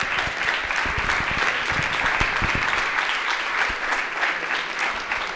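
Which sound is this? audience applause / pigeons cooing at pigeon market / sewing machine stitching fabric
audience applause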